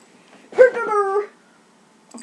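A dog gives one drawn-out whimpering whine lasting under a second in a quiet room, followed by silence and a faint trailing sound.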